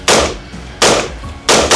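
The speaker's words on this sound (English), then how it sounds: "we will conduct a test fire" A $350 rifle is test fired three times in close succession, each shot a loud sharp crack with a short decaying tail, spaced under a second apart.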